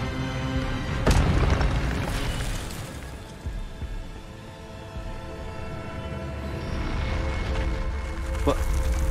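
Incendio fire spell cast in the Hogwarts Legacy video game, heard as a sharp, booming burst near the start followed by a rumbling tail and a second softer impact later, with game voices and sounds around it.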